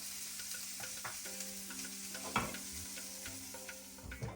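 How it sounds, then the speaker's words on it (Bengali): Cauliflower is stirred in a pan of hot oil for a rohu fish curry with potato, a steady sizzle broken by repeated scraping strokes and one louder clatter midway. "আবার একটু মিশিয়ে নাও ফুলকপিটা।"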